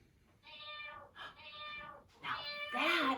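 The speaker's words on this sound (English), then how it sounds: "the sound of a cat" A cat meows in a series of clear, tonal calls, three to four separate meows rising into a louder, harsher final cry, heard close and alone with no speech.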